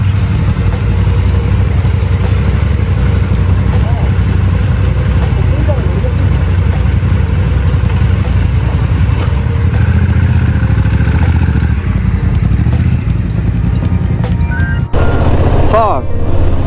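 A Honda NT1100 motorcycle engine idles with a steady low rumble, running continuously beneath a person talking nearby.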